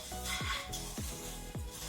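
A spoon stirs panko breadcrumbs coated in bacon grease inside a pan for a macaroni and cheese topping, making four quiet, evenly spaced scraping strokes with a faint crackle between them.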